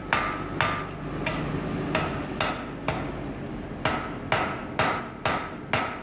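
Hammer blows ring on steel as a rail spike is forged into an axe on an anvil, ten sharp strikes at an irregular, slightly quickening pace, close and loud over a steady background hum.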